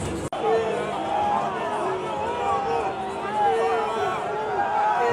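A large crowd of Corinthians football fans fills the stadium with a constant roar of chanting and shouting, dense and continuous, with a sharp click near the start.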